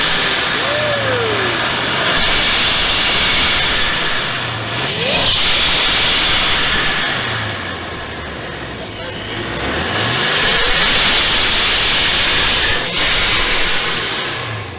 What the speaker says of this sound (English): Dude, prochargers sound amazing.